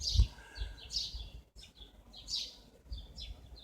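Outdoor birds chirping and tweeting in short bursts, several high calls scattered across a few seconds, moderately close and fairly quiet, with no voices.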